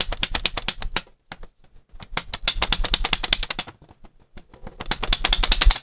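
A card waved fast through the air makes a rapid, rattling run of flapping pulses. The pulses come in three dense bursts separated by short pauses, close and fairly loud, with no voice.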